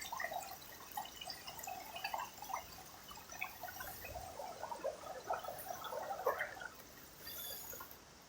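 A small stream trickles through a drain outdoors, soft, irregular drips and gurgles at low volume, fairly close.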